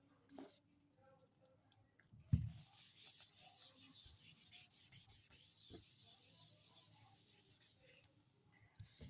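Writing being rubbed off a classroom board, a soft, quiet scrubbing and rubbing that runs for several seconds with a sharper knock near the start, while a teacher speaks faintly.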